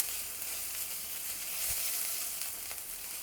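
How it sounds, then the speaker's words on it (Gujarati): Ginger, chili and garlic paste sautés over a low gas flame, giving a steady, soft sizzle with faint stirring clicks, close and alone without any talk. "ગેસની ફ્લેમ ધીમી રાખી અને આદુ મરચાં લસણની પેસ્ટ એકદમ સારી રીતે સાંતળી લેશું"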